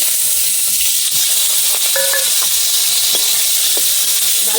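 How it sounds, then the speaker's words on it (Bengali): Ripe tomato frying in hot oil with a dried red chilli and whole cumin gives a loud, close, continuous sizzle and hiss, with a few faint clinks and scrapes of stirring and no talk. "ভালো করে ভেজে নেব।"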